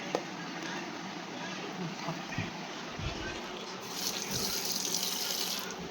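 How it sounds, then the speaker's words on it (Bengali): Hands being washed under a running tap at a home sink, a steady close hiss of flowing water with splashing, over faint background sound. "এই হাত ধোয়া হাত ধোয়া"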